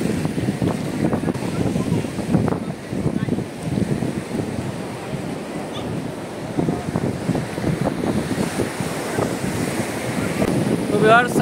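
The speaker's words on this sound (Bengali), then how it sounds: "উত্তাল ঢেউ" Rough surf churning and crashing continuously at Laboni Beach, Cox's Bazar, heavy wind buffeting the microphone, with faint voices mixed in.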